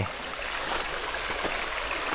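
A shallow forest stream at a waterfall trail crossing in Saraburi runs close by with a steady, gurgling wash, the flowing water alone and fairly loud throughout.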